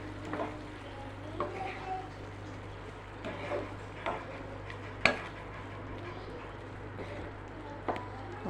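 Prawns cooking in a pot with a faint, steady simmer, broken by scattered light clinks and scrapes of a spoon stirring, some a little sharper than others.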